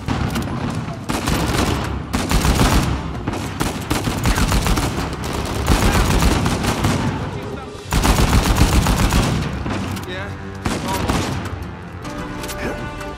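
Rapid gunfire in Uncharted 4: A Thief's End on PS4, sustained bursts of shots with loud game effects throughout, dipping briefly before resuming.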